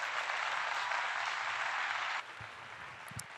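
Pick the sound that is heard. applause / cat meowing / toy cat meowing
applause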